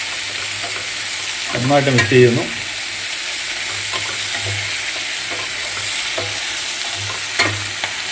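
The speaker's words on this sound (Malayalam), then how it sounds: "കരിവേപ്പില ഇട്ട് കൊടുത്തു, നന്നായിട്ട് മിക്സ് ചെയ്യുന്നു." Okra masala frying in a pan with curry leaves, stirred in steady scraping strokes over a loud continuous sizzle, with a short stretch of speech near the start.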